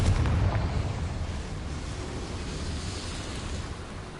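Confringo fire spell blast from the video game Hogwarts Legacy, a loud rumbling explosion that bursts at the start and then rolls on as a steady roaring wash for several seconds, with no talk over it.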